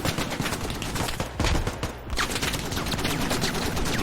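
Dense gunfire from the military shooter game Squad rattles in rapid overlapping bursts, loud and continuous with a brief lull midway, without any speech.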